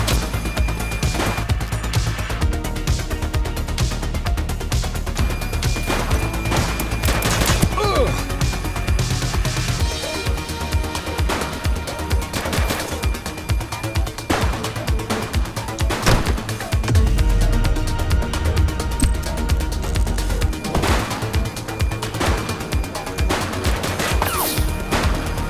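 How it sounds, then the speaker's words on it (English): Dense, continuous gunfire in a police precinct shooting game, volleys of rapid shots and automatic bursts with crashes over a steady loud background, occasional voices mixed in. "Shots fired!"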